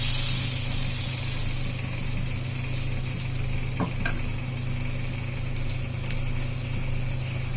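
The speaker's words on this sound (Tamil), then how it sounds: "இப்போ நம்ம தோசைக்கல்லில் சூடான உடனே இந்த மாவை ஊற்றுறோம்." Chickpea dosa batter poured onto a hot dosa griddle gives a steady, close, continuous sizzling hiss that holds evenly throughout, with a couple of faint ticks and no talking.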